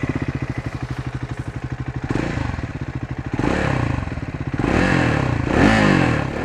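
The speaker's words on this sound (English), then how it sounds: "So let's hear how this double barrel unit sounds like." A Triumph Scrambler 400X motorcycle with a double-barrel exhaust idles with a fast, lumpy single-cylinder thump, then blips the throttle in rising revs. The exhaust is loud and close, with no talking.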